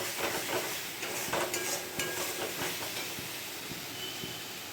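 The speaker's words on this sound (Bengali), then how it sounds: "একটুখানি মশলাটা ভালো করে ভেজে নেই" Spice paste frying in a pan for an egg, potato and fish curry, a steady sizzle with soft stirring scrapes throughout, moderately loud and close, with no talking.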